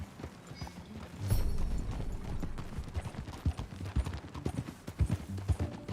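Steady clip-clop of horse hooves at a walking pace in Red Dead Redemption 2, close by, with a low ambient rumble and occasional louder footfalls.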